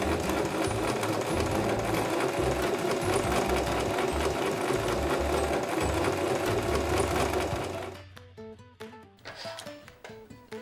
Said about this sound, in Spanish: Ya la tenemos lista y vamos a coser.